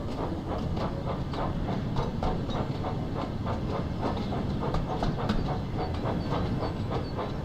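Trains roll over rails in the Thomas and Friends: Wonders of Sodor video game, a steady rhythmic clickety-clack of wheels beneath a continuous hiss of steam, loud and unbroken.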